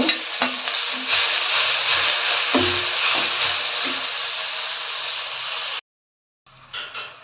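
Spring onion greens fry in a pan with curry leaves for a spring onion sambar, a close steady sizzle with occasional stirring knocks, then a sudden break before the frying resumes briefly.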